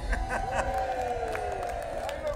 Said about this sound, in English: Put your hands in the air and cheer.